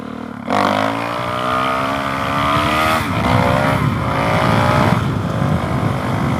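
A motorcycle on knobby tires, a Continental TKC80 front and a Shinko 805 rear, revs hard for a wheelie, its engine snarling up through rising pitch and holding loud and close for several seconds.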